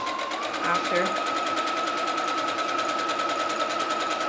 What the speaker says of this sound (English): now you're just sewing that all the way around